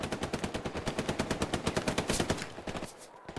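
Automatic gunfire in a video game, a fast, evenly spaced machine-gun burst hammering out roughly a dozen shots per second for nearly three seconds before it cuts off.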